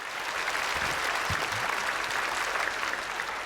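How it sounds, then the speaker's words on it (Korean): A church congregation applauds during a Sunday worship sermon, giving steady, dense clapping that fills the room throughout without building or fading. "여러분 박수 한번 해주세요."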